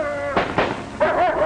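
Explosions in a 1942 war film: three short, muffled booms burst in quick succession over a thin, wavering whine that rises and falls, like a dog whimpering between the blasts.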